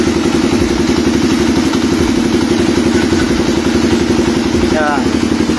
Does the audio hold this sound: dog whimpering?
no